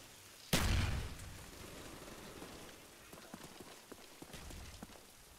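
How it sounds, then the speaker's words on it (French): One sharp, close blast of a grenade explosion in Call of Duty, a sudden burst that decays within half a second, followed by scattered faint pops and crackles. "Il y a une grenade qui est arrivée par là"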